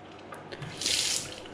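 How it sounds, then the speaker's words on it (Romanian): A tap runs quietly, giving a soft hiss of water that swells briefly in the middle and then eases back, with no voices. "Ah, uite, iar robinete. Două robinete."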